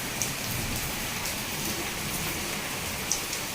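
Heavy rain falls in a dense, steady roar of drops hitting surfaces, close and constant, with no voices.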